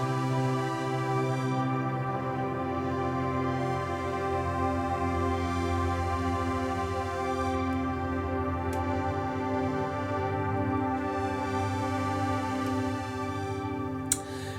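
An evolving synth pad from the Zebra Luminae soundset holds sustained, layered harmonic tones that shift slowly across nearly fifteen seconds. It plays alone, steady and full, with a faint tick near the end.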